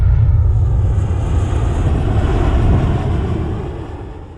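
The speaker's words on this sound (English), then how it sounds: "you could hear them practicing their flying" An Air Force plane passes over a state park campground near Destin, Florida, as a loud, broad low roar that slowly fades, with some wind noise on the microphone.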